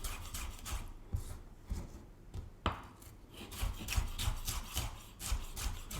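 Knife chopping tomatoes into small squares on a board for guacamole, a steady run of close, crisp knife taps with a short pause partway through.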